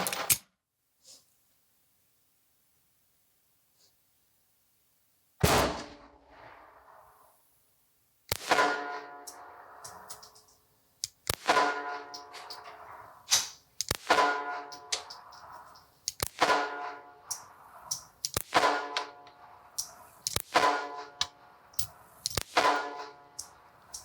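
Sharp pistol shots from a Sig P238 .380 ACP, firing through a 7-round magazine: a string of loud, separate reports spaced a second or two apart, each with a short ringing decay, after a few seconds of near silence.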